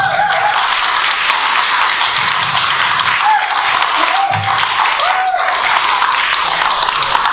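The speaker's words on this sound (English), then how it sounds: "So, a big round of applause for Patrick for us." A big round of applause from an audience at a talk about a cycling journey to China, loud, dense clapping sustained throughout without a break, with faint voices mixed in.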